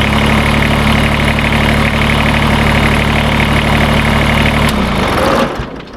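Kubota BX2380 tractor engine idling steadily and loud up close, then cutting off and winding down near the end.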